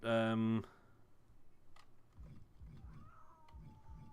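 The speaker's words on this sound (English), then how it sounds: "Can you hear the cat? She's being very loud today." A pet cat lets out a loud, drawn-out meow up close, followed by quieter clicking and faint background sounds.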